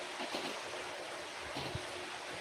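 Rain falling steadily as a broad wash of noise, with the patter swelling louder partway through the short stretch; no voices are heard.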